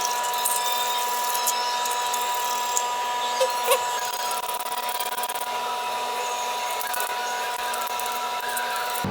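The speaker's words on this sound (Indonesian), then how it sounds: "pokoknya tak amplas biar catnya hilang" A steady high-pitched whine of a rotary sanding tool grinding paint off a metal brake fluid reservoir cap runs throughout, with a few faint clicks and no talking.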